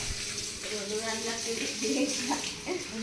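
Tap water runs steadily into containers being filled at home, a continuous gushing stream with a shifting ringing tone, while a voice talks over it.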